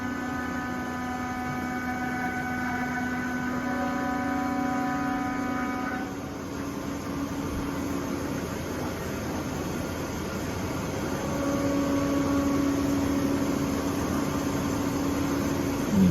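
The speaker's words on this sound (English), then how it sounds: "The tool's really long, so it makes a little noise on this part" Long milling tool cutting the EverClean main housing on a machining setup: a steady, fairly loud whining hum with faint tonal ringing that shifts partway through, continuing without speech.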